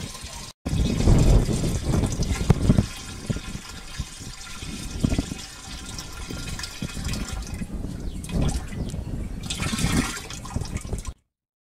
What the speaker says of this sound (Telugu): తయారైన సొంటి పాల కషాయాన్ని 200 లీటర్ల నీటిలో కలుపుకోవాలి.